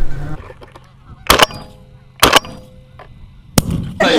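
Honking geese during a subzero Nebraska waterfowl hunt: a few loud, sharp bursts stand out against open outdoor ambience, with some background calls between them.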